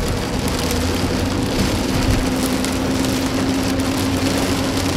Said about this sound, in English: It's only a little bit of rain